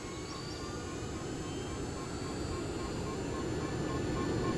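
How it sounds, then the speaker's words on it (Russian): An airplane drones past in a Roblox game, a steady low rumble holding throughout and swelling slightly louder toward the end, with no talk over it. "О, самолет."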